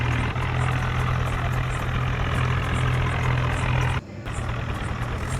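An Arjun tractor engine idles in a farming video game, a steady low diesel rumble holding level, then briefly dipping near the end before resuming.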